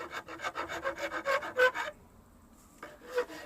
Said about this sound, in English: I mix with different rasps and files